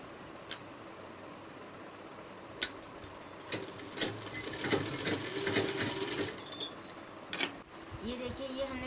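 A sewing machine stitches a baby umbrella-cut frock in a fast, even run of mechanical clatter in the middle, with someone talking over it and a few clicks before and after.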